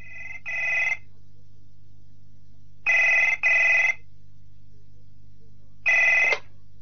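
A telephone rings in short bursts: a double ring, then another double ring, then a single ring, loud and close over a faint steady hum.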